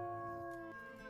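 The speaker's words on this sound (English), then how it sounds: "Yes, listen to their howls and be afraid." Brief, steady howl from wolf pups in the WolfQuest game, a sustained tonal cry with layered harmonics lasting about a second, close and unaccompanied by speech.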